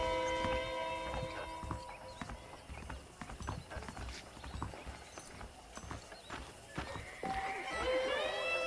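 Horse hooves clip-clop steadily in Red Dead Redemption: Undead Nightmare with a brief neigh near the end, mixed over game music and ambient sound at a moderate distance.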